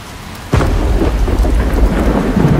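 Sudden thunder cracks in and booms into a long rumble, layered over loud, driving downpour of a violent storm that keeps pouring without pause.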